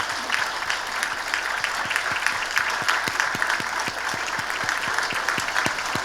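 A church congregation at a New Year's Eve service applauds in sustained, dense clapping, evenly loud throughout with sharp individual claps poking out of the wash.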